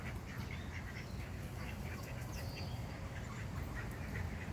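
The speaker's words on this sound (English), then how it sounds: "I just think ducks are really cute." Ducks quack repeatedly in the early morning, fairly faint and distant, their calls sounding in scattered bursts over a steady low outdoor rumble.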